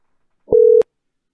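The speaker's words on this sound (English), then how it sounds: "Give us a second while you hear some funny ringing" A single short electronic phone tone sounds during a call: a steady pure beep lasting about a third of a second, clean and loud against silence.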